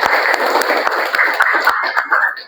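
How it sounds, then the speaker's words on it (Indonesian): Students in a school classroom clap together in dense, even applause, close and fairly loud, thinning slightly near the end. "sekali lagi tepuk tangan untuk semua yuk"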